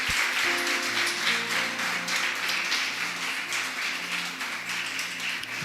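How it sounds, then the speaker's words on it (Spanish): A church congregation applauds in a dense, sustained wash of clapping, with steady musical tones held underneath throughout. "¿Cuántos pueden darle un aplauso a Jesús por eso?"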